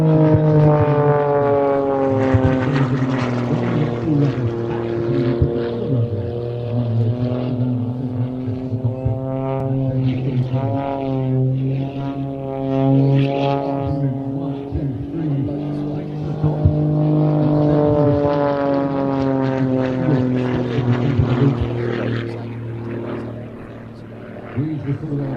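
A propeller aircraft engine pulls through an aerobatic stall turn, its loud, steady drone of stacked harmonic tones sliding down and back up in pitch as power and attitude change over about twenty-five seconds.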